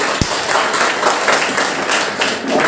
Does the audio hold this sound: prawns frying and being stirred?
no